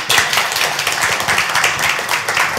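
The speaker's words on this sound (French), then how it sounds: "on peut vous applaudir." An audience claps at the close of a research event in Nantes, with steady, fairly loud applause running throughout the short stretch and no talk over it.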